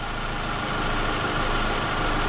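A 2006 Toyota Camry Solara with a 2.4-liter engine runs at a steady idle, a continuous close mechanical hum with no talk.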